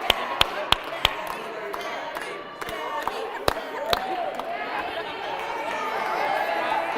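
A keynote audience at a conference cheers amid steady crowd chatter, with a series of sharp, close claps and whoops standing out over the murmur.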